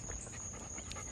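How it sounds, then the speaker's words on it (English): A dog pants quickly and rhythmically on an early-morning walk, a soft, close series of breaths alongside a faint steady high-pitched tone. "I'm walking the dog, so I gotta be quiet."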